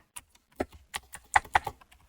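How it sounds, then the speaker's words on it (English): Irregular, crisp keystrokes on a computer keyboard as a search term is entered, a dozen or so separate clicks close up with short gaps and no talking. "I'm going to type in NVM, so Node Version Manager. I'm just typing the NVM"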